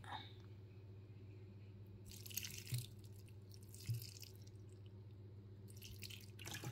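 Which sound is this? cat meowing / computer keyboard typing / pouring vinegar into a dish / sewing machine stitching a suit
pouring vinegar into a dish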